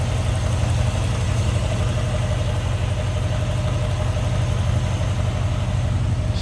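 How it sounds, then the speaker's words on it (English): A hot-rodded 390 V8 in a 1957 Ford Fairlane 500 idles steadily with a deep, even rumble, loud and close throughout with no talk over it. "This smooth running engine."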